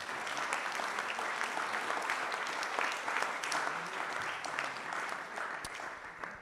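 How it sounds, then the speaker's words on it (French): A conference audience gives a sustained round of applause, a dense, steady wash of many hands clapping at a moderate distance with no voices over it. "je propose une salve d'applaudissements"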